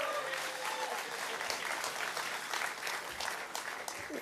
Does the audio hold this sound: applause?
yes